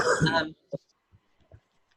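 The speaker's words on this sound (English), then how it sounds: "No, I just coughed." A person coughs a few short, soft times on a Zoom call, the coughs quiet and close after a brief burst of voice at the start.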